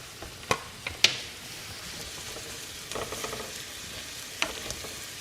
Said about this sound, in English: It's sizzling.